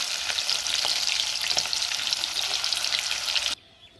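Onions and green chilies fry loudly in a pan for a village-style beef curry, a dense, close crackling sizzle with stirring scrapes that cuts off abruptly near the end.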